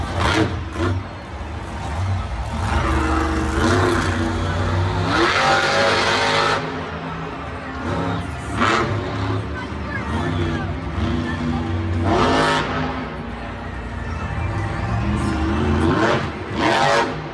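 Monster truck engines roar and rev continuously during a Monster Jam stadium freestyle run, with repeated surging bursts of throttle and crowd or announcer voices mixed in beneath the engine noise.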